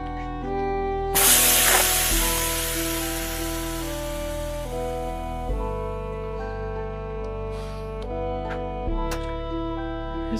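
A punctured motorbike or scooter tyre hisses loudly as air escapes in a bright, broad rush that slowly fades, heard over a steady tonal background of music, with no talking.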